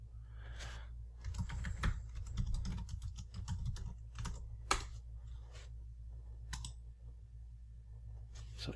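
Computer keyboard keys tapped while a password is typed, a quick, irregular run of soft clicks close by over a low steady hum, with brief pauses between bursts.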